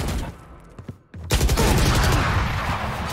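Rapid automatic gunfire in Valorant during a last-player round, a dense continuous burst of shots filling the second half after a brief lull of scattered shots and near-silence.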